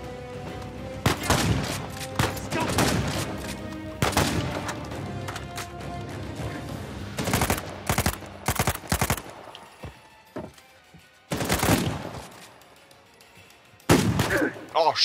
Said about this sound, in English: It wouldn't be a gun battle without the snipers, man.